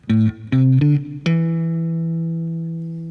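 Four plucked guitar notes in a minor pentatonic phrase, the first three short and quick, the last held and slowly ringing out, closing on a sustained lower tone, the fifth above the root.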